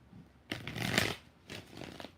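Tarot cards being shuffled in two bursts of riffling and rustling, the first longer, with a short pause between them. The sound is close and fairly soft, with no talking.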